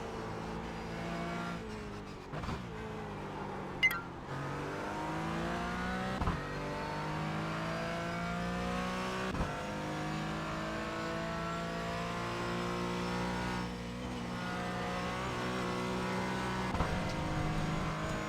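An iRacing race car slows hard and shifts down, the engine note dropping with brief throttle blips before revving upward through several gear changes, loud and steady from start to end without speech.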